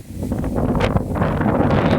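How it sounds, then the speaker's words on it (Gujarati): Strong, storm-like wind gusting at full speed through a village during a rainy season squall: a loud, steady rushing roar throughout, with no talk. "જો કેવો પવન આવે, એકદમ ઘાય સ્પીડમાં, જાણે વાવાઝોડું આવ્યું"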